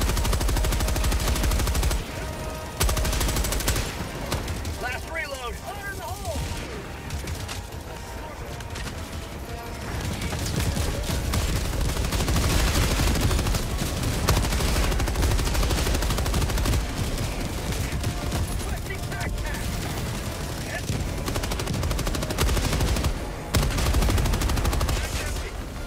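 Dense, continuous gunfire and machine-gun bursts from battling robots in the video game Helldivers 2 fill the mix, loud and nearly unbroken, with voices shouting beneath the shooting.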